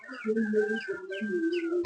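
Twenty-day-old chickens cluck and call steadily, close by, with overlapping bird voices throughout and no talking.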